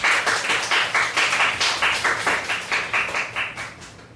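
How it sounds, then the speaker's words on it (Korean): Steady applause from a church retreat congregation welcoming a pastor, dense rhythmic clapping sustained at an even level throughout, fairly close and loud. "목사님 나오실 때 박수로 환영하겠습니다"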